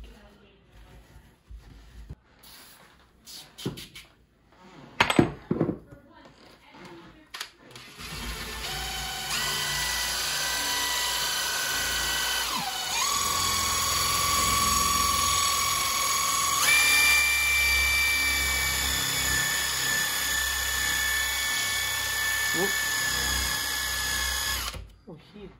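A power drill fitted with a 2-inch scrub brush whirs steadily on a filthy stovetop for about fifteen seconds, loud and close, its pitch climbing partway through, after a stretch of clatter and handling noise.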